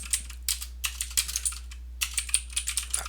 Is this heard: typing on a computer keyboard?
yes